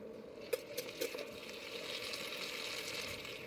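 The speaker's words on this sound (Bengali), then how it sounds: "সাবধানে নাড়াচাড়া করছি, প্যানটা ছোট, বাইরে পড়ে যেতে পারে।" Beet and tomato stirred as they fry in a small pan, with a soft, steady sizzle and a few light scrapes and taps of the spoon near the start.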